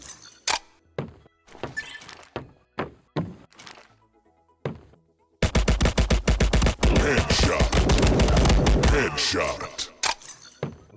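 Gunfire in the Call of Duty video game: scattered single heavy shots give way to a long, loud burst of rapid automatic fire, close and punchy, with brief gaps between volleys.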